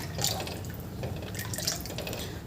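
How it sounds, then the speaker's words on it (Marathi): Water trickles and splashes into a pot of thin curry broth, a soft continuous pouring with light dripping accents, fairly quiet and without talk. "इथे मी परत पाणी घालत आहे."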